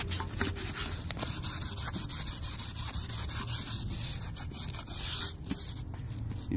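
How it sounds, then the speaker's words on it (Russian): Sandpaper scrubs by hand over a Jeep Grand Cherokee WJ wheel rim, producing steady close-up rasping strokes in a quick, repetitive rhythm. "потом я беру наждачку"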